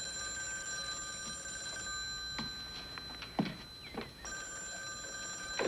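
A telephone in a police drama keeps ringing with a steady high trill, briefly pausing while a few faint voice fragments and thumps intrude, then resuming near and loud at the end.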